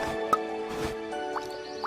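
Storybook sound effect of potion drops dripping, a few separate high plinks and drips spaced out over a soft sustained tone.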